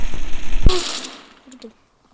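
Gunfire in a video game: a rapid rattle of shots ending in one sharp, loud crack, followed by fading echoes and near silence.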